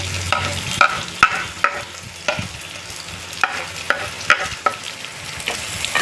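Curry leaves stirred into an onion and mustard seed mixture in a hot pan, with sharp spoon scrapes and taps against the pan over a soft sizzle, close up and without talk.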